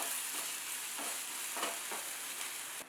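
Kitchen king masala mixed into a frying paste in a pan for methi matar malai: a low, even sizzle with occasional scraping stirs, heard alone without talk.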